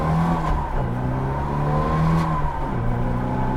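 A prize-winning Austin Mini Seven's small engine with a single 1¾-inch HIF carburettor on an alloy manifold, revving steadily and loudly up close as its pitch rises and falls, with no talk over it.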